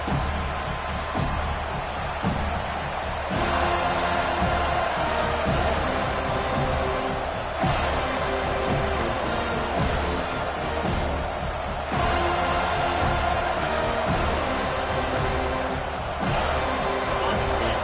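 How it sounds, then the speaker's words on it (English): A football stadium crowd roars at a Florida State Seminoles game, a loud, sustained wall of cheering and noise with swelling surges and occasional sharp bangs, continuous throughout. "It's early, but this crowd is fired up. Listen to this noise here."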